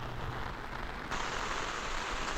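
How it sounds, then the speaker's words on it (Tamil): Heavy rain pounds steadily on a Honda City diesel during a drive in Vellore, a dense continuous wash of drops close around the car, growing a touch louder midway. "மழை நல்லா வந்துட்டு இருக்கு."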